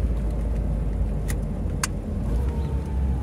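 A carburetted Ford Del Rey car with an automatic gearbox and a faulty transmission, engine braking after dropping into first gear. The engine drones low and steady throughout, close by, with a couple of brief clicks.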